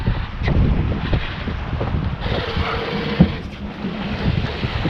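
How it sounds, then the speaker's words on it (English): A sailboat cruises through a swell of about 1.2 metres off the Scottish coast, with steady wind buffeting the microphone and water rushing against the hull throughout. "The boat's just cruising along, brilliant."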